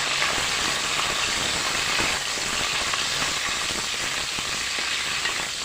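Okra sautéing in a pan of coconut oil, giving a steady, dense broadband sizzle that holds at a constant level throughout, with no talk over it.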